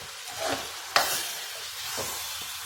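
A spoon stirs Sri Lankan seeni sambol with tamarind juice in a pan, giving soft scraping strokes over a gentle sizzle, with one sharp clatter near the start.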